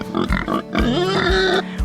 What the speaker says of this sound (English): we're going to be moving our 3 feeder pigs on fresh grass